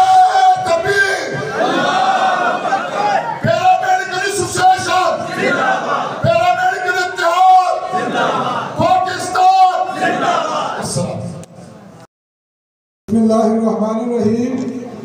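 A large crowd at a Paramedics Day gathering roars "Allahu Akbar" in loud, repeated unison shouts answering a Takbir slogan, several surging bursts that break off into a brief silence before one more shout.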